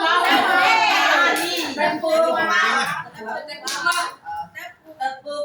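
Rhythmic hand clapping during a group session, mixed in with lively chanting voices, including children's, that fade into short claps and calls toward the end.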